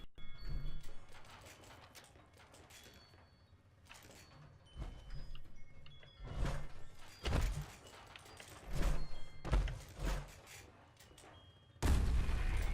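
Gunfire in the video game Fallout 76: repeated sharp booming shots in irregular bursts, mid-distance, over a low rumbling game ambience, with a louder blast near the end and no talking.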